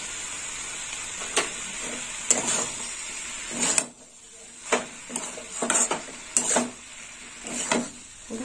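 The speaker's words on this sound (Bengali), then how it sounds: "চাপা দিয়ে দেবো, একটু নেড়ে চেড়ে চাপা দিয়ে দেবো।" A spoon stirs chichinga (snake gourd) curry in a pan, a run of irregular scrapes and metallic clinks against the pan over a soft frying sizzle, with a short quiet pause midway and no talk.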